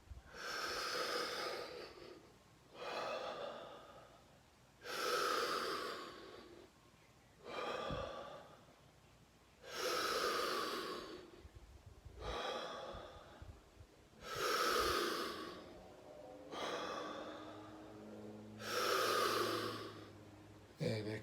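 Slow, deep breathwork breathing, close and soft, with about eight long airy inhale-exhale cycles spaced evenly every couple of seconds and quiet pauses between them.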